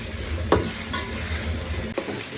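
Green masala paste sautéed in oil in a pan for vatana pulav, a steady close sizzle broken by a few sharp scrapes of a spoon stirring it, with no one speaking.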